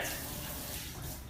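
A tiny splash of water trickles in while an apple galette is being prepared, a soft, steady running-water wash heard close and alone.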